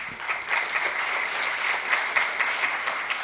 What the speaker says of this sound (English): A round of applause for Dr. Verhelsek again, please